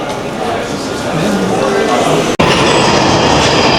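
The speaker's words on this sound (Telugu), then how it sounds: "ఇవి రెగ్యులర్ ట్యూబ్స్ అన్నమాట, లండన్ ఐకానిక్ ట్రైన్స్ ఇవన్నీ" A London Underground tube train rumbles loudly and steadily close by, with one sharp brief dropout partway through and the roar resuming right after.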